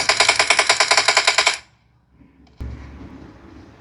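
Automatic gunfire in a mobile shooter game played on a Samsung Galaxy A06 5G phone, a fast burst of evenly spaced shots lasting about a second and a half, then a pause and a duller thump.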